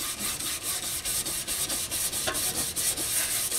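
Hand sanding on a motorcycle petrol tank being prepared for paint, with primer and a dry guide coat abraded away. The close, steady rasping strokes repeat in an even back-and-forth rhythm with no talking.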